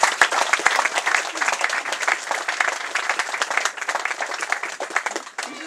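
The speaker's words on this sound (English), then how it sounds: "I think they deserve a round of applause." A crowd at a local community awards event claps steadily in warm, sustained applause, dense and continuous throughout with no voices over it.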